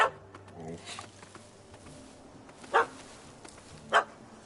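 A dog barking in The Witcher 3 game: a few sharp, separate barks spaced a second or more apart, moderately near, over quiet game ambience with brief whimpering sounds.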